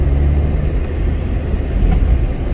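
A 2011 Hyundai Santa Fe seven-seat diesel CRDI SUV with a 6-speed manual gearbox cruises at speed, its steady engine drone and road rumble filling the cabin without pause and with no talking.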